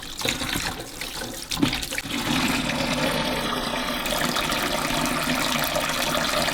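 Water runs steadily into a kitchen sink, filling it to soak the removable infuser of a DeLonghi Magnifica S coffee machine; a continuous close, moderately loud rush with a few clunks early on and no talking.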